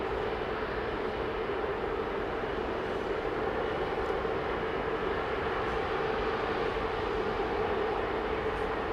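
A GE90 jet engine on a large airliner spooling up toward takeoff thrust at Heathrow Airport, a steady, loud, dense roar heard from a distance, holding constant throughout with no voices.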